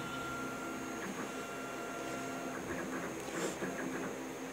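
A Kyocera TASKalfa 1801 copier scans and prints with a steady mechanical whir and hum, and faint clicks and rustles of paper moving through it.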